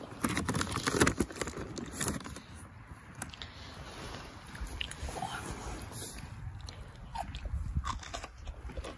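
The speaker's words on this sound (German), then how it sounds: "Max. Du bist ja schon am Mampfen" Someone chews crunchy food close by, crisp biting and crunching repeating unevenly.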